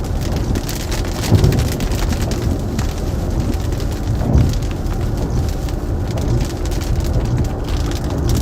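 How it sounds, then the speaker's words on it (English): Heavy, steady rain pours down during a slow-moving Florida thunderstorm, a dense constant hiss close by with faint low rumbles underneath. "It's a really slow moving storm though."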